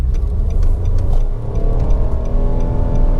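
A 2021 Nissan March 1.2 with a three-cylinder engine and automatic gearbox accelerates, a steady close engine drone under faint repeated ticking, with no talk.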